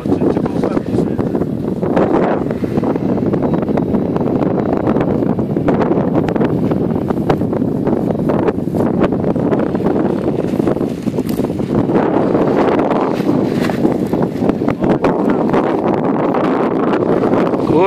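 Strong wind at an RC paraglider flying field buffets the microphone in loud, continuous gusts and rumbling roars, swelling and easing in waves across the whole stretch.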